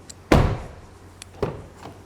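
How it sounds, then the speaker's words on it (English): A solid car door on a 2022 Hyundai Veloster N DCT hot hatch shuts with a heavy, close thunk, followed about a second later by a softer second knock. "When I close this door,"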